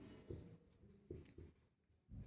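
A pen writes on paper during a maths lesson, making soft scratchy strokes in short bursts with brief pauses between them, close and quiet.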